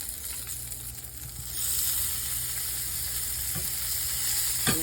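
Halved cherry tomatoes hit a hot skillet in which onions are already cooking: quiet at first, then a fuller, steady sizzle swells and holds close by, with a couple of faint stirring clicks and no talking.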